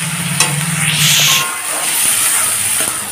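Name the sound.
sautéing ginger, garlic, onion, tomato, green chilli over high flame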